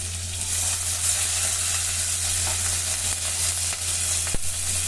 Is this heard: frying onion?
yes